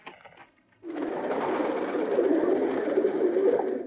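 Pigeons coo and flutter in a scene from the 1977 film High Anxiety, a dense, steady flock sound that starts abruptly after a brief quiet and stays close and loud to the end.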